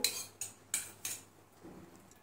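A spoon clinks and scrapes against a bowl four times in quick succession while dadpe poha, flattened rice, is mixed with coriander and lemon juice, followed by a soft stirring rustle, close and fairly quiet.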